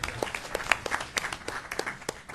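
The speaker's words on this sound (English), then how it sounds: "a little more applause for Dan" A small audience at a board of directors meeting claps in a sparse, uneven patter, individual hand claps standing out rather than a dense roar, with no talk over it.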